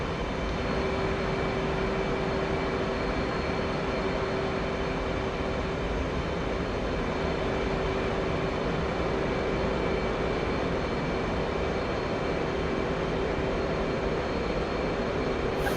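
A damaged airplane in the Digital Combat Simulator video game drones with a steady, loud engine roar, an unbroken broadband rumble with faint tonal whine holding constant throughout.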